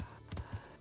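Hooves clip-clop in the medieval video game Kingdom Come: Deliverance as a newly acquired horse sets off, with several soft, low thuds in an uneven rhythm over a quiet background.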